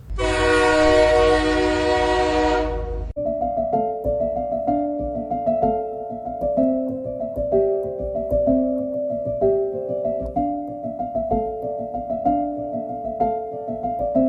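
A passenger train running between Lokmanya Tilak Terminus and Ernakulam Junction, Kochi, opens with a loud, close horn blast of about three seconds, then rolls on with steady rhythmic wheel clatter and rumble, with no talk.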